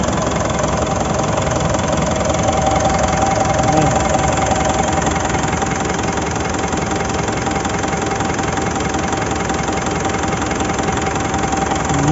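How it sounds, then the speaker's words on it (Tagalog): A Mitsubishi Montero engine idles evenly after a misfire fault was repaired, a loud close steady rumble with no stumbling that runs throughout without a break. "Hindi na palyado yung makina tulad ng dati."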